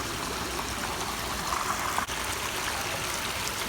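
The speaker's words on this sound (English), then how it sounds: "this is a shorter pondless waterfall that's on a separate basin, and it disappears under this bridge here" Water from a short pondless garden waterfall trickles steadily into a separate basin before vanishing under a bridge, a continuous close splashing babble with one faint knock midway.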